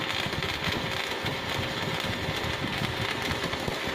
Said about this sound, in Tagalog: Ang lakas po ng weldingan niya.